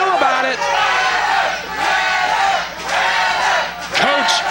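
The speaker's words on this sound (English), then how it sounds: "This crowd is still chanting for the amazing Trevor Lee, the champion" A wrestling crowd at a CWF Mid-Atlantic no-disqualification, no-time-limit match chants loudly in steady rhythmic waves, filling an indoor arena with massed voices.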